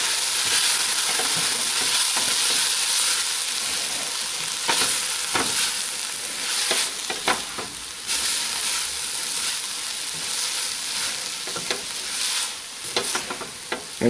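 Chili powder cooking down in a stovetop chili pot, a steady loud sizzle and hiss with irregular scraping and clicking from a spoon stirring, no voices over it.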